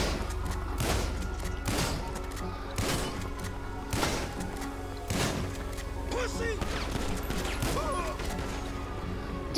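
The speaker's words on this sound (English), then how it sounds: "Got this little tiny shotgun." Shotgun blasts in Grand Theft Auto V gameplay, a series of sharp, loud booms spaced roughly a second apart amid a constant background game ambience, with a player's voice talking briefly near the end.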